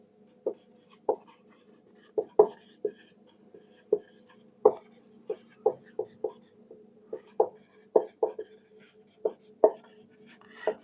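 Pen or pencil strokes by hand on paper make a string of short, distinct scratchy ticks at an irregular pace, close and fairly clear against a quiet background.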